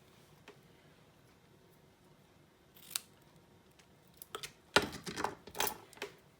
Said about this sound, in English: So I'm just going to trim that off with my scissors.